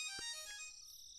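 A mobile phone ringtone plays a short melodic electronic phrase, fairly quiet and clear with no speech over it.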